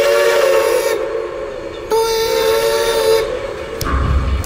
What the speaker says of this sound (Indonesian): kereta mulai kedengeran